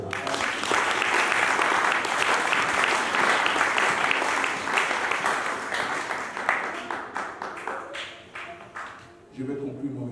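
A church congregation applauds during a sermon, a dense, loud wash of clapping that runs steadily for most of the stretch, then thins into scattered claps and fades near the end, with voices mixed in.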